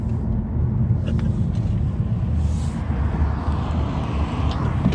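Steady, loud engine drone of cars racing, a 2020 Honda Civic Si against a 2009 Chevrolet Cobalt SS, in a 20 mph roll race, heavily buffeted by wind noise throughout.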